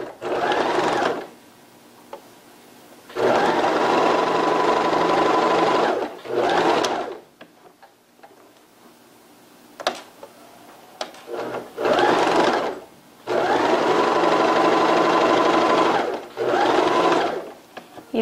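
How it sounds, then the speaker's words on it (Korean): Dart seams are stitched on the back panel of a leggings skirt with a sewing machine, in several loud close bursts of steady whirring separated by short pauses filled with fabric handling. "뒷판도 동일 박음질로 다트 박음질 하겠습니다"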